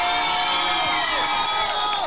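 Crowd in an outdoor town-square karaoke contest cheers and whoops for a contestant named Kolya, a dense, loud wash of voices and shouts sustained throughout with no single voice standing out.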